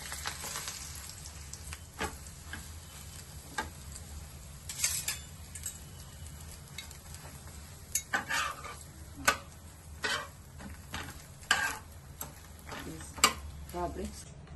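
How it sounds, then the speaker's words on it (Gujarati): Soft scraping and light ticking taps as pav bread rolls toast on a hot griddle, with a faint low sizzle underneath; quiet and intermittent. "હવે આપણે પાઉં શેકી લઈશું."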